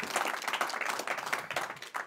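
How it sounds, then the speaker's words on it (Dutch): A dense burst of audience applause, many hands clapping at once at close range, filling the whole short stretch without a break. "Wat een applaus."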